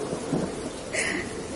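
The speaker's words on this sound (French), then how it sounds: "Yves, ne m'abandonne pas à cette tempête." Thunderstorm with steady rain hissing over a surface and a low thunder rumble, dense and continuous for a short stretch, with a brief brighter swell partway through and no voices.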